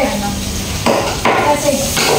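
Onions frying in a pan, a close sizzle broken by clattering utensil scrapes and pan knocks, fairly loud over a short stretch.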